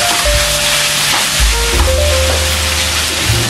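Shredded chicken fries with sautéed shallot, garlic and candlenut paste in a pan, a steady close sizzle broken by repeated scraping strokes of a stirring spatula, with no talking.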